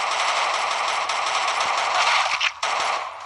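Video game gunfire, a dense, loud, nearly continuous automatic burst close to the mic, with a brief break near the end and no voices over it.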